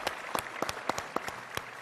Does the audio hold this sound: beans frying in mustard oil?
no